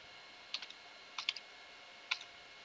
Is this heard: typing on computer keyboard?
yes